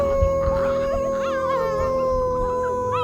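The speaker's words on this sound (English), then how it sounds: "the staff here are taking care of those small baby wolves here" Abandoned wolf cubs cared for by staff in Inner Mongolia howl in wavering high cries mixed with yips and whimpers, several voices overlapping continuously and close by, with a steady low background hum.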